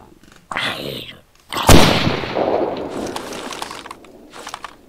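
Shotgun fire in a Minecraft map with a Spaz 12, one sharp loud blast standing out among other game sounds, followed by a lingering noisy tail.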